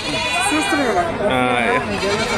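Billy goats bleating at the Kunta goat market, with wavering cries close by that are mixed with someone talking over them.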